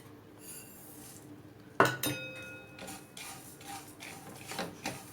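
Sesame seeds and dry fruits being stirred in a pan for dates and nut burfi: a sharp metallic clank followed by scattered scraping and light clinks of a spoon against the pan, close and quiet.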